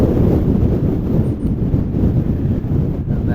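Steady, loud wind buffets the microphone on an open fell-top mountain hike in the Lake District, a constant low roar with no other sounds and no talk.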